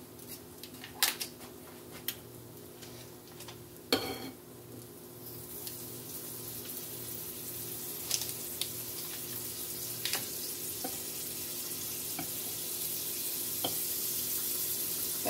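Butter melts and sizzles in a frying pan for stuffed strawberry French toast, a few utensil clicks at first, then a steady hiss that grows fuller and louder.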